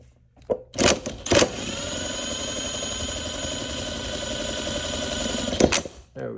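A Ryobi 18V ONE+ HP lawn mower motor, model P1190, is tested on the bench. After a few sharp clicks, it whirs up and runs at a steady, even hum for several seconds, then stops with a click.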